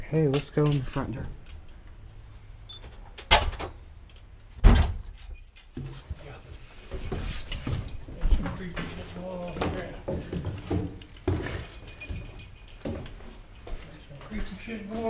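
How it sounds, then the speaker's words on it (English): A door in an abandoned house is opened and slammed shut, giving a few loud, sharp bangs and knocks with mechanical rattles, mixed with people talking and moving around nearby. "Open the door and slam shut."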